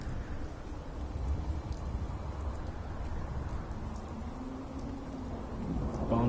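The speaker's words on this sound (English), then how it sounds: "The rain still pours." Steady rain pours in the video game Fallout 4, a continuous soft hiss of drops with a faint low rumble beneath, fairly quiet and even.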